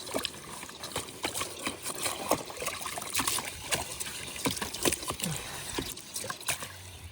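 Water from a garden hose sprays and trickles steadily while cleaning gunk out of a feed or supplement container, making a close splashing, dribbling sound with small irregular spatters and no talk.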